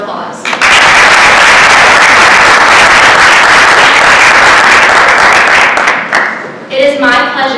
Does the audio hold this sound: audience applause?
yes